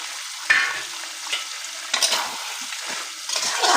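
Cut potatoes dropped into a hot pan for a home-style mutton curry sizzle and hiss, with sharp bursts of frying and scraping stirs over a constant crackle.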